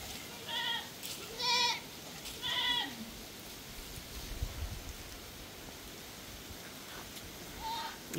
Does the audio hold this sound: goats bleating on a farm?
yes